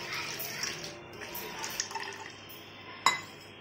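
Water being poured, about 300 ml measured for a Kabasura kudineer herbal immunity drink, runs as a steady close liquid pour with light clinks of a vessel and a sharper knock near the end.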